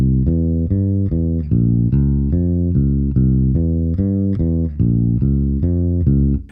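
Bass guitar picking the opening riff of a song as a bouncy run of repeated, evenly spaced plucked notes, close, loud and alone.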